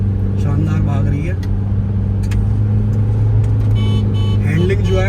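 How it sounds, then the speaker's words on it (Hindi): A Toyota Fortuner Legender runs fast in sports mode, its engine a steady low droning rumble inside the cabin beneath someone talking throughout. "स्पोर्ट्स मोड इज अमेजिंग, गाड़ी बहुत शानदार भाग रही है।"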